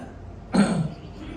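A single sharp cough or throat-clear from someone in a church congregation cuts through a quiet sermon hall, fairly close and lasting under half a second.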